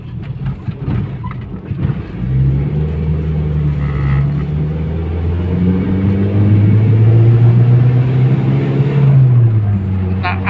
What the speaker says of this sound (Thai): เดี๋ยวจะลองเบรกแล้วกลับรถยูเทิร์นให้ดูนะครับ